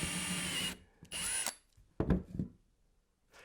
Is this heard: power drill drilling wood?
yes